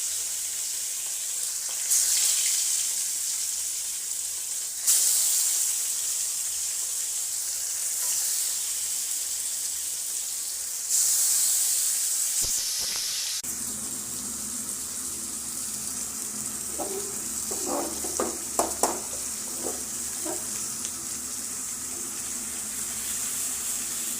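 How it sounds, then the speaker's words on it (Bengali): Fish frying in hot oil in a pan, a loud steady sizzle that swells and drops as the oil spits, with a few clattering knocks of utensils near the end. "মাছটা এখানে ভেজে নেব।"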